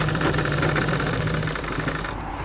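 Sewing machine running a continuous edge stitch along a school skirt, a steady close mechanical whirr and rapid clatter that eases off near the end, no talking.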